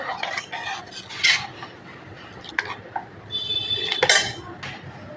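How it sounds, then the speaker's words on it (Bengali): A spoon scraping and clinking against a metal pot while sour yogurt is stirred into lukewarm milk, irregular close knocks and scrapes with short gaps between them, no voices. "এই টক দইটা আমি মিশিয়ে দেবো। মিশিয়ে ভালো করে নেড়ে নেব।"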